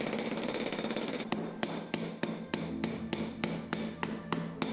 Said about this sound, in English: The neighbors were not waiting for the most cheerful day to the sound of hammer beats.